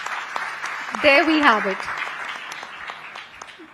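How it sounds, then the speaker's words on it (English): Audience applause at a women entrepreneurs' event, a steady patter of clapping throughout while a voice speaks briefly over it near the start. "So huge round of applause for the She Shakti platform as well."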